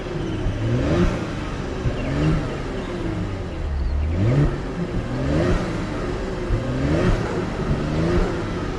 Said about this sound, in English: So this is the exhaust.